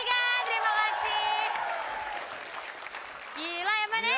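Studio audience applauds a trio of performers on an Indonesian comedy TV show, dense sustained clapping mixed with cheering and speech over it, a voice rising again near the end.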